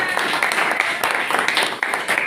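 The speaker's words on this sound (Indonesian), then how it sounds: "Oke, tepuk tangan." A school audience claps in a room during an OSN recruitment session, a dense, steady wash of many hands for a couple of seconds, close and loud, with voices faintly underneath.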